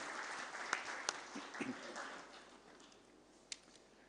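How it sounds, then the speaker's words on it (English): Applause for contestants and participants at a club prize giving celebrating the club's 70 years, a soft, fairly distant wash of clapping with a few sharper claps standing out, fading slightly toward the end. "big round of applause to all our contestants and participants, sponsors, everybody"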